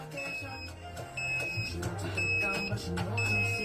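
Short electronic beeps of a workout timer repeat at intervals over a low background hum and music-like tones during a cardio hoop session, moderately loud and steady.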